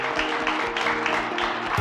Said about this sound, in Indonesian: mari kita berikan tepuk tangan yang paling meriah sekali lagi untuk Warehouse Project